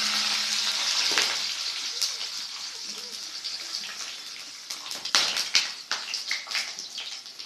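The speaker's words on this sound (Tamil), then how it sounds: "அதே எண்ணெயை கொதிக்கிற எண்ணெயை கொஞ்சம் எடுத்து இதில் போட்டாச்சுங்க" Whole spices, including bay leaf, cinnamon, cloves, fennel seeds and cardamom, frying in hot boiling oil, a loud steady hiss that eases off and then breaks into crackling pops toward the end.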